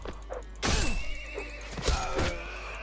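A horse in the medieval combat game Mount & Blade: Warband lets out sharp neighs and whinnies amid the clatter of battle, with hits and thuds close by.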